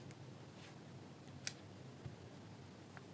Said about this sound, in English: you need to cut the yarn